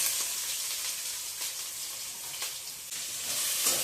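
Spices sizzle in hot oil in a pan as a sambar base is fried, a close, steady crackling hiss with a few light stirring touches and no talking.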